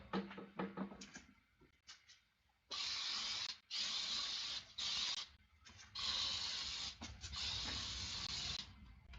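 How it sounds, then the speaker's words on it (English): An aerosol can hisses in several long bursts, each a steady loud spray lasting about a second, separated by short pauses, close to the microphone. "Just gonna spray the room."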